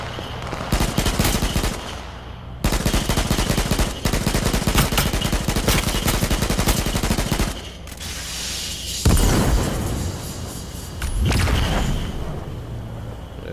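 Gunfire in the battle royale video game H1Z1, loud sustained bursts of automatic fire with short pauses between them, followed by heavier single booms, dense and close throughout.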